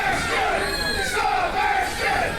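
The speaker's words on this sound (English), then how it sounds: "Sebastian getting some cheers" A wrestling crowd at an Appalachian Championship Wrestling live show cheers and roars, a loud sustained swell of voices with rising and falling shouts.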